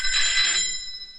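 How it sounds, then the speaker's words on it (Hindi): Telephone ringing in a 1990s Hindi action film, a bright electronic ring that sounds briefly and then fades out, with no talk over it. "फोन बज रहा है तेरी"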